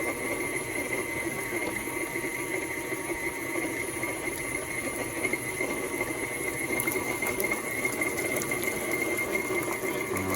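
An electric mixer runs continuously, whirring and churning sugar cookie dough with an added egg, a steady close motor hum with a faint rhythmic slapping and no talk.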